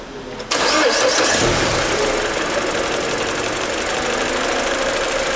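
A car engine turns over and catches almost immediately, then runs at a loud, steady idle, close by, with no talking.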